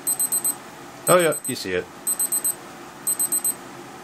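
A Casio G-Shock DW-9052 digital watch's timer alarm emits rapid, high, piercing beeps in repeated bursts of four, with a voice briefly talking between bursts.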